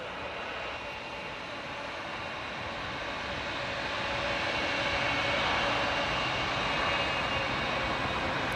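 A Turkish Airlines Boeing 777-300ER takes off at night from Toronto Pearson, its jet engines a broad, steady roar that gradually builds in loudness, heard from afar with no talking.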